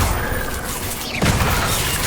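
Confringo fire spell explosions in the video game Hogwarts Legacy, a dense roaring blast with crackling debris that swells again around the midpoint, loud and continuous.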